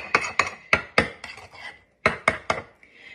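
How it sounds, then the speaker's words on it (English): A spoon stirs vitamin-rich oatmeal with probiotics and vitamin D in a bowl, striking it in about eight sharp, close clinks that come in two quick clusters with a brief pause between. "I'm just gonna stir that up"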